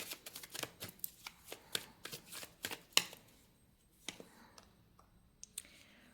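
Tarot cards are shuffled and laid out in a run of close, crisp riffles and sharp snaps, with quieter single card clicks and taps near the end. No one speaks.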